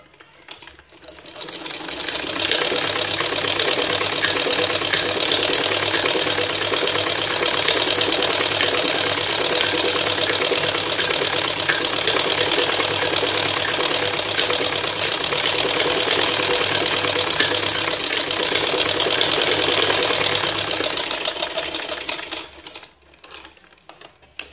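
Sewing machine stitching a wavy decorative design into the hem of a salwar, running loud and steady for about twenty seconds with a continuous motor whir, then stopping.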